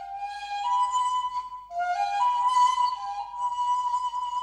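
A replica of a 35,000-year-old ivory flute plays a soft, breathy melody of sustained notes with pitch slides and a short pause midway, heard alone and close.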